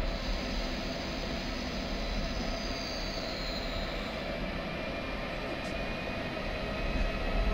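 BR189 electric locomotive in Train Simulator 2016 pulling away under light throttle, a steady broadband rumble and motor drone that holds even and continuous throughout, with a faint high whine rising above it.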